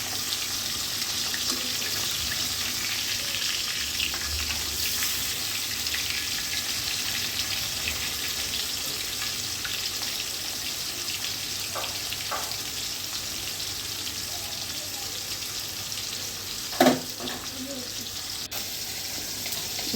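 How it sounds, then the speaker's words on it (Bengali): Fish frying in a pan with a steady, fairly quiet sizzle throughout, broken by a few brief clinks and stirring sounds near the end. "মাছগুলো এপাট ওপাট করে ভালোভাবে ভেজে নেব।"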